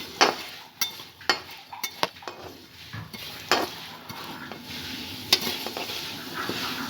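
Vermicelli roasting in a pan while a spoon stirs it, scraping and clinking against the pan in uneven strokes under a soft sizzle, close by.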